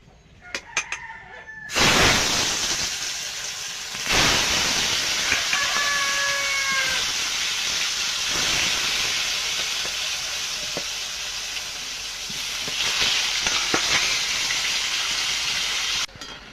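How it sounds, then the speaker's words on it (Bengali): Brinjal slices frying in a pan, a continuous sizzle that starts abruptly and swells when more pieces go in, with a rooster crowing nearby in the background. "বেগুনটা ভেজে নেব"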